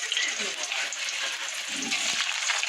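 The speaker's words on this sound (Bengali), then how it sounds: "তেলটা গরম হয়ে গেছে জিরে ফোড়ন দিয়েছি এবার আলুগুলো দিয়ে দেবো" Potatoes fry in hot oil tempered with cumin seeds, giving a loud, steady crackling sizzle that holds evenly throughout with no break.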